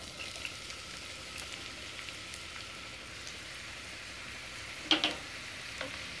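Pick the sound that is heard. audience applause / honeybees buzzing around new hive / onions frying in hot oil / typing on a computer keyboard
onions frying in hot oil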